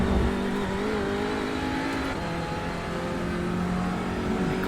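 An Audi RS3 LMS TCR race car in iRacing at Road Atlanta, its engine droning loud and close, with pitch sliding as it downshifts to fourth and revs settle under steady road and wind noise.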